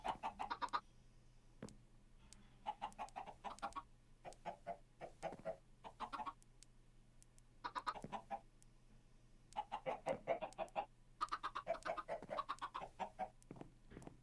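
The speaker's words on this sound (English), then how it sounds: "I think I'm gonna get tired of the chicken noises in our house very quickly." Chickens in the CS:GO video game cluck repeatedly in short, jittery bursts with brief pauses between them, fairly close and alone, with a steady low hum underneath.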